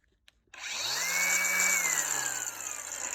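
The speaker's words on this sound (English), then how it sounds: "Okay, so we've got the cutoff saw." A Kobalt cordless cutoff saw whirs up after a short click and runs at a loud, close, steady high whine that slowly dips in pitch, heard alone without talk.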